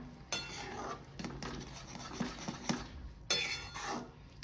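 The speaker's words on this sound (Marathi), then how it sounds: "हे असं ढवळत राहायचंय आपल्याला." Gram flour pithla stirred in a pan with a ladle, giving soft scraping and rubbing with light clinks of metal against the pan, steady and close.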